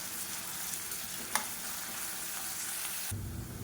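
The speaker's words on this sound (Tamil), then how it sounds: "மீடியமான ஃப்ளேமில் வச்சுட்டு நல்லா ப்ரௌன் கலரில் வர அளவுக்கு வதக்கிக்கலாம்." Onions frying on a medium flame until brown in a pan for chicken biryani, a soft, steady sizzle with light stirring and one brief scrape, then the hiss stops near the end; no speech.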